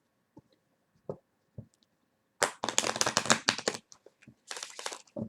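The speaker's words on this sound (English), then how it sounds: "Let me get another good shuffle on these." A deck of tarot cards is shuffled close up: a few isolated taps, then a quick burst of riffling, a pause, and a second shorter riffle, quiet and alone.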